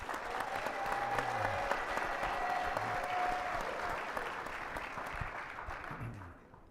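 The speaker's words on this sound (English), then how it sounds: "Please give him a round of applause." Audience applause at a public program on service and advocacy, a steady sustained clapping from a room of listeners that holds for several seconds and then begins to fade, with no talking over it.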